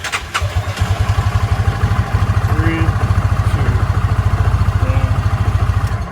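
A Coleman Outfitter 550 ATV engine catches and settles into a steady, rapid thumping idle, loud and close, with faint voices briefly underneath.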